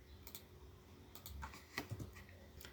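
Soft, rapid clicking of a computer keyboard as someone types code, quiet and close with an irregular rhythm and faint room hiss.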